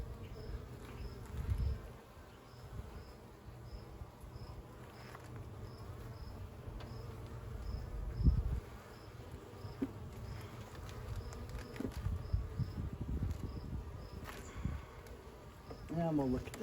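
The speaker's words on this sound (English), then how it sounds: "Even more bee activity." A colony of honeybees drones continuously at an opened hive being checked for a released queen, the close, even buzz rising and falling slightly, broken by a few soft knocks and handling sounds.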